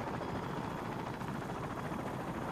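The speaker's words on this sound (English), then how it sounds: "Yep, I'm hearing a chopper." A helicopter approaching in the Call of Duty 4: Modern Warfare campaign, a dense continuous rotor wash holding steady and fairly loud throughout, alone without talk.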